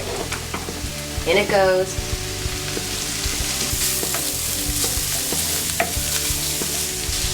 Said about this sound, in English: make sure that I integrate the onion, cilantro, and jalapenos in with the chorizo. and brown the chorizo really, really nice.